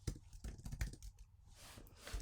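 Keys tapped in quick irregular bursts on a computer keyboard while entering a search on eBay for an Epson EcoTank printer maintenance box, close and fairly quiet, with a softer pause in the middle.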